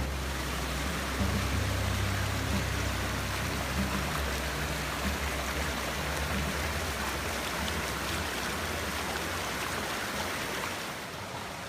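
Trout Creek in Kaniksu National Forest, Montana, flowing fast and knee-deep, gives a steady, loud broadband rush of water that holds evenly throughout without any talking.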